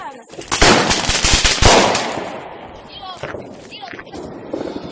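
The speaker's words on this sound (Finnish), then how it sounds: "Mulla on hienommat raketit" Fireworks rockets set off at a New Year celebration, with a loud crackling, popping burst over the first two seconds that fades into scattered distant bangs while people talk and exclaim nearby.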